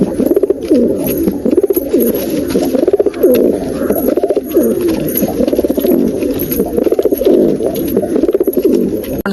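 A pair of Tiruchi line pigeons coo repeatedly in soft, rolling phrases, close and continuous, with a faint bird chirp now and then in the background.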